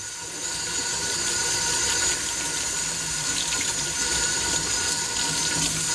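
Water runs steadily from a faucet into a sink, rinsing a rubber-stamp scrub pad, with a continuous hiss and splash, close by, no voices.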